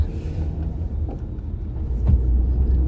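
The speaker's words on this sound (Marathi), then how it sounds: "मी नुसता गाडी चालवतोय, माझी काळजीच नाही कोणाला" A car is being driven, its engine a low steady rumble inside the cabin that swells slightly toward the end, with no voices.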